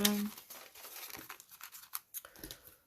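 Paper banknotes are handled and slipped into a paper envelope, producing close rustling, crinkling and sliding paper sounds in uneven bursts that fade toward the end.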